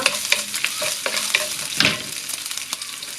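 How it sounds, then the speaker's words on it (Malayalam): Two dried red chilies fry in hot oil in a pan while a spoon stirs them, giving a steady bright sizzle broken by sharp scraping strokes of the spoon, close up and with no voices. "ഇടയ്ക്ക് ഒരു 2 വറ്റൽമുളക് അതിട്ട് കൊടുക്കുക."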